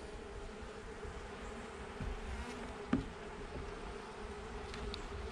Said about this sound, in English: that hive got loud when I took her out of there.